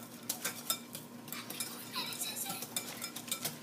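A utensil is stirred around a pot in quick, irregular clinks and scrapes against the metal. It sounds close and moderately quiet, with a faint sizzle under it and no clear speech.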